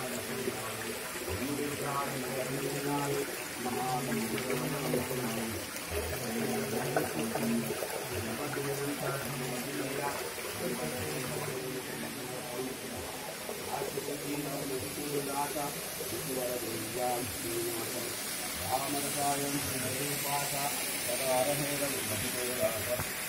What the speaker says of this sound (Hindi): कुदरती झरना